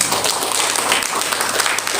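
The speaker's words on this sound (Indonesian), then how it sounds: "Berikan tepuk tangan" A church congregation at a fasting prayer service applauds together, a dense, steady wash of many hands clapping at close range for the full two seconds.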